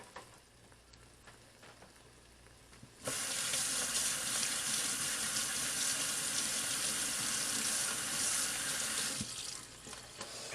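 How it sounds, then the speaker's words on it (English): Running tap water pours steadily into a kitchen sink as hands are rinsed, a loud, broad hiss that starts abruptly partway through and continues before easing near the end, with faint kitchen background beforehand. "I'm going to rinse my hands off"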